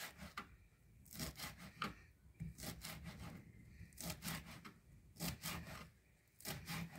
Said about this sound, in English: Now I cut my mint. I chop my mint also very fine.